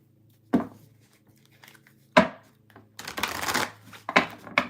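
Tarot cards being shuffled by hand, with sharp riffles and slaps, then a longer burst of rapid shuffling followed by a few more quick riffles, close and clear.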